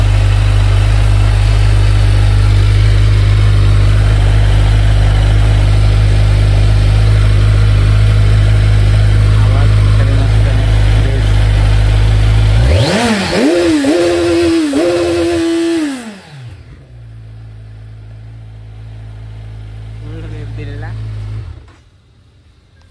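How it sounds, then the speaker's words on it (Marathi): A Kawasaki 1100SX 1100 cc superbike engine idles loud and steady up close, then revs in a few rising and falling bursts before dropping to a much quieter idle and cutting out. "1100 cc बाईक उभी आहे. तिचा पण आवाज दाखवतो तुम्हाला."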